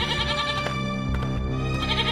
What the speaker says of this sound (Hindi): उसकी बकरी उसकी झोपड़ी में ही बंधी होती है और काफी चिल्ला रही होती है।